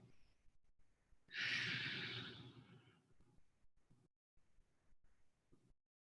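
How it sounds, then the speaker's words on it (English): A deep inhaled breath taken during a kneeling chest-opening stretch in a strength and conditioning session, one long loud breath rising suddenly and fading over about two seconds, followed by quieter breathing. "take a big breath in."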